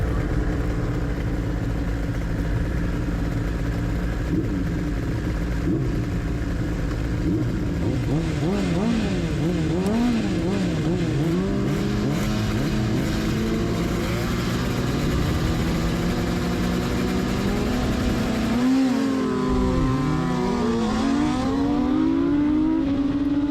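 Heard on board, a vintage racing motorcycle heads out onto a wet track in an open race, its engine loud and close, revving up and down repeatedly with sweeping pitch changes through gear shifts.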